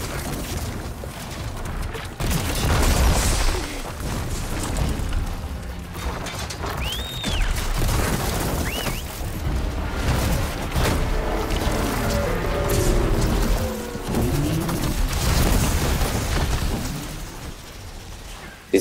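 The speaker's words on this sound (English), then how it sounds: "the shockwave from the tear ammo still removes the component for me" Tear ammo shockwave blasts striking a Tremor Tusk machine in Horizon Forbidden West, booming impacts and mechanical clanks amid dense, loud game ambience with whirring machine noises.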